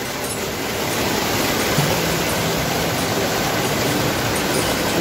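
Water rushes steadily over rocks near the Los Vientos waterfall in San Alfonso, a loud unbroken roar that fills the whole stretch.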